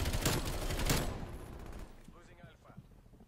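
Bullfrog SMG gunfire in Black Ops Cold War, a dense burst of rapid shots at the start fading into quieter scattered game sounds, with a voice talking over it.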